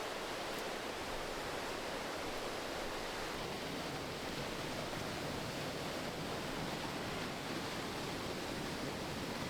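Creek water rushes steadily at a backcountry crossing in Idaho, a dense continuous roar of flowing stream with no pauses, fairly close and alone without voices.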